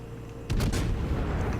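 A warship's main guns in the naval combat game World of Warships fire one booming salvo partway through, a sharp loud blast that gives way to a rolling low rumble after a short quiet lead-in.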